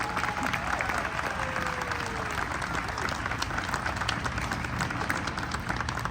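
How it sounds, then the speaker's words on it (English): An audience at a hotel grand opening ceremony applauds continuously, a dense, steady wash of many hands clapping at even volume throughout. "So let's have a round of applause for all three of those groups."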